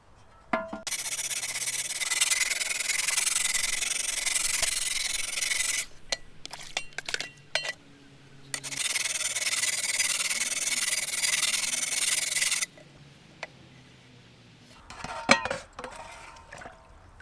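A hand file rasps across the metal blade of a garden tool to sharpen it, in two long steady passes of loud, gritty scraping. Short clinks and taps of metal fill the gaps between the passes.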